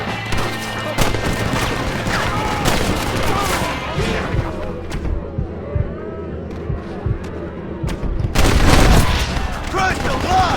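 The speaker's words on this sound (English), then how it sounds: "Go for the machine gun, John!" Machine gun fire in Red Dead Redemption: sustained loud rattling bursts and scattered shots over a dense battle din, with shouting voices and a louder flare of firing near the end.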